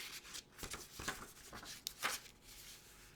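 Pages of a printed concert booklet are flipped by hand, giving soft, quiet papery rustles and a few quicker turning swishes over a few seconds.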